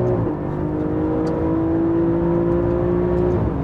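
Alfa Romeo Giulia GTAm engine on a racetrack, a steady loud mechanical drone with a sustained engine tone holding and slowly rising under light throttle, no voices.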